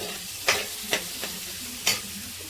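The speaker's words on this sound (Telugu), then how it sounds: "ఉల్లిపాయలు కొంచెం ఫ్రై అయ్యాక కరివేపాకు, పచ్చిమిర్చి వేసుకుని ఫ్రై చేసుకుందాం." Onions, curry leaves and green chillies frying in a pan for a soya chunk pasta curry, with a soft steady sizzle broken by four sharp scrapes of a stirring spoon.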